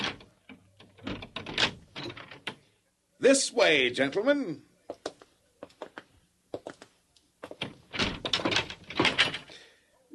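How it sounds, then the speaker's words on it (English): A creaking door to a treasure house swings open after being unlocked, a drawn-out groan lasting about a second between stretches of people talking. "unlock the door to my treasure house"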